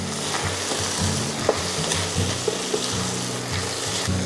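Flour being stirred into beef mince frying in a pan, steady close sizzle with scraping spoon strokes and a few sharp clinks against the pan, no talking.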